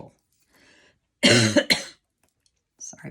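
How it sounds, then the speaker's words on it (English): A person with a bad cough, seated at a card-making table, lets out two harsh, loud coughs in quick succession, set in near silence with faint breathy sounds before and a short voice afterward. "I have a bad cough"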